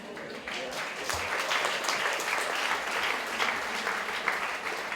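Award ceremony audience applauding steadily for several seconds, a dense wash of clapping after a brief quieter start.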